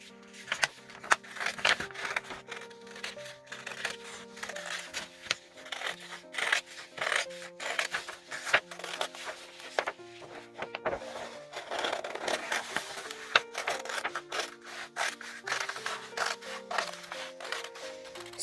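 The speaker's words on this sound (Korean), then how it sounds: "사각사각 종이 자르는 소리가 듣기 좋습니다" Scissors snip through paper in quick, crisp repeated cuts, close up, with soft rustling between strokes and no talking.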